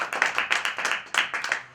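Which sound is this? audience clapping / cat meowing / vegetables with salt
audience clapping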